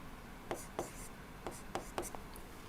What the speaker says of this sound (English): So, I am writing